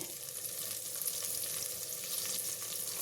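Avarekalu beans and curry leaves are stirred in a hot frying pan, giving a soft, steady sizzle with faint scraping of the spatula, quiet and continuous throughout.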